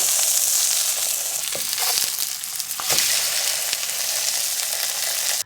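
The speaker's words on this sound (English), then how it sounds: "we're going to be doing the majority of the cooking on the salmon on the skin side" Salmon fries skin side down on very high heat, making a loud, dense, steady sizzle with a couple of brief crackling spurts, no talking, until it stops abruptly at the end.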